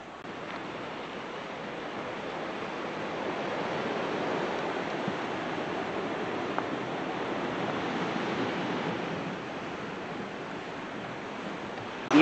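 Sea waves wash steadily against the coast at Cala Pola near Tossa de Mar. The continuous broadband surf rush swells and eases gently, mixed with light wind noise, and no voices are heard.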